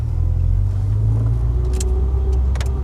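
Rover 820 car pulling away into Windermere rush-hour traffic, a low steady engine rumble from inside the cabin with the pitch rising slightly as it moves off, plus a few faint clicks near the end.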